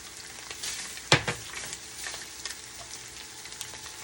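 Keto crab rangoon filling sizzling in a pan as it is stirred, a soft continuous fry with a sharp scrape of the utensil about a second in and lighter scrapes after.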